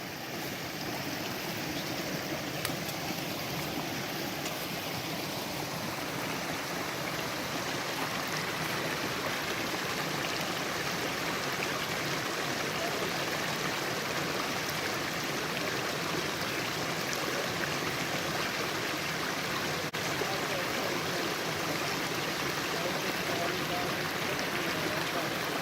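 A forest stream flows in a constant, dense rush of water that stays even and moderately loud throughout, with no clear voices over it.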